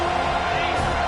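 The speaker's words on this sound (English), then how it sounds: "Here comes this home crowd as the defense tries to get off the field on 3rd down" Home football crowd cheering on third down in a Georgia at Florida State college football game, a loud, sustained roar filling the whole brief moment.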